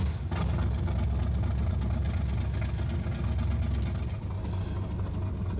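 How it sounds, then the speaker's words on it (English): A 1967 Corvette C2 V8 idles just after starting, a steady, deep, burbling engine rumble held close and loud with a slight rise in revs. "V8 music. Idled up just a little as if to say, I'm ready, let's go."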